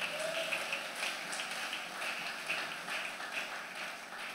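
A church congregation applauds during a Sunday worship service, a continuous, even patter of many hands clapping at a moderate distance and fairly soft throughout.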